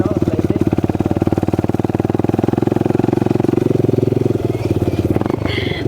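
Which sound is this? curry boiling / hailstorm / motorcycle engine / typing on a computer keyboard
motorcycle engine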